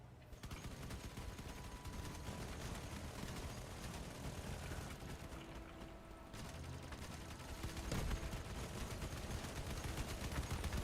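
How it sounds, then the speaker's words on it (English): Continuous rumbling artillery and heavy gunfire in a video game, with dense low booms and mechanical clatter filling the whole stretch, swelling slightly louder near the end. "Oh, artillery."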